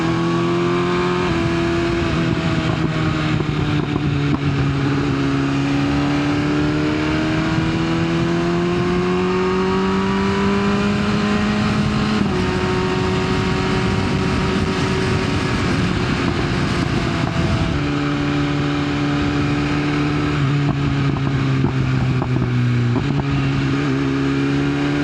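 A BMW S1000 sport motorcycle engine drones steadily and loudly while riding, its pitch rising and dipping as the rider shifts and accelerates, with continuous exhaust rumble.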